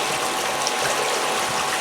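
Water pours steadily off a Geo Banker black sand dredge in a constant, loud rushing wash with no pauses or voices.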